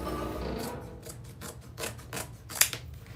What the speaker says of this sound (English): hold it up to my chin and cut